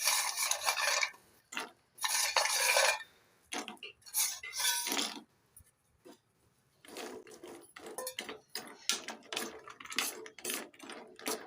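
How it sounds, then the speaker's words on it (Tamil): Fried maida biscuits being stirred into a sweet soaking syrup, heard as bursts of close scraping and rubbing against a bowl, separated by short pauses. "இது ஃபுல்லாக நல்லா கலந்து வச்சுருங்க"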